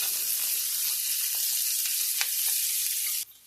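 Steak frying in melted butter in a pan, a steady close sizzle running throughout with a few brief crackles and pops, dropping away abruptly near the end.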